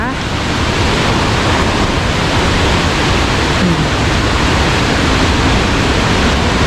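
Roaring rush of the Khlong Lan waterfall, a dense steady wash of falling water that fills the whole stretch at close range, loud and unbroken with no pauses.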